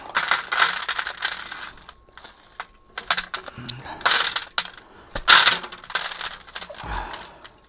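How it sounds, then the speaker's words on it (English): Small rocks are scraped and pulled from an Australian native bonsai tree's pot in irregular bursts of gritty clinks and rattles, some sharp and close, separated by quiet pauses, with a little faint speech. "So we're going to take a lot of this rock out."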